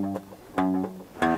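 Acoustic guitar bass notes walking down the sixth string, palm muted, from a song lesson: three short, damped low plucks spaced about half a second apart, close and fairly quiet with no talking.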